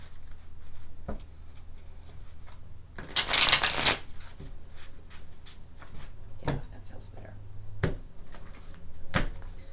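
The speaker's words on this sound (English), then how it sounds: "Let's do them another shuffle." Tarot cards being shuffled in short riffling bursts, with one louder, longer shuffle near the middle and soft taps and clicks scattered around it.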